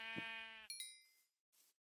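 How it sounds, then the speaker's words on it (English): A blocky Minecraft sheep gives one short nasal bleat, followed by a bright game chime and a brief soft rustle, fairly quiet and alone. "There's a sheep."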